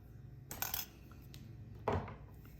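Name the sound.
cutting two jewelry wires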